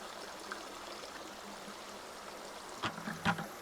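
Water pours and trickles steadily over clay paydirt during gold mining, a continuous soft rushing flow, followed by a few brief louder splashes near the end.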